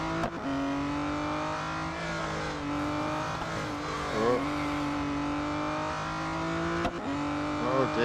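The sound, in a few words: Aston Martin Vulcan AMR Pro engine, Real Racing 3 video game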